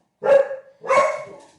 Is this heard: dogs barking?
yes